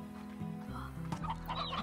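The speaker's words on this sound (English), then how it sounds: "And I need to get a rooster for these chickens." Chickens cluck in a video game, a few short, close clucks and warbling calls over a low background hum.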